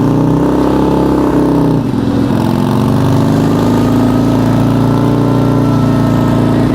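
A Harley-Davidson motorcycle engine during a riding lesson, with a loud, steady, close-up drone and a brief dip around the two-second mark as a gear shift happens before the engine settles back to a constant run.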